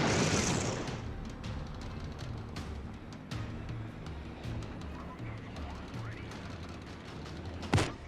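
Naval gunfire and explosions in the World of Warships video game, with a loud boom at the start, then scattered distant cannon shots and blasts under a low rumble, and a sharp crack near the end.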